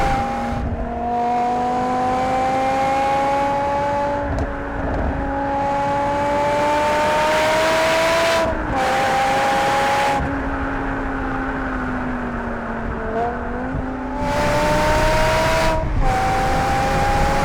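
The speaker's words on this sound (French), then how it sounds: "On a quand même un V10, hein, c'est un moteur de Formule 1 qui monte à 8200 tours au minute." BMW M6 with its high-revving V10 engine accelerating hard on the road, climbing through the revs in long rising pulls with brief drops at gear changes, loud and close from inside the car.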